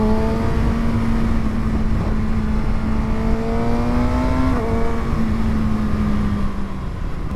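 A 2020 Kawasaki ZX6R, a 136 hp inline-four sport motorcycle, accelerating hard, its engine note climbing smoothly and loudly through the revs, easing briefly around a gear change and then pulling up again, close and continuous.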